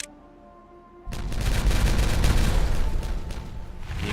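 Explosion in Timberborn: after a second of quiet hum, a sudden loud blast erupts into a sustained rumbling, crackling roar that lingers for several seconds.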